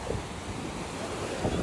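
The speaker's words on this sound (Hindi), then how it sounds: "अभी अभी आगे से लहरें आ रही हैं" Ocean surf washing onto a beach during a seaside picnic, a steady broadband wash with wind buffeting the microphone and a slight surge near the end.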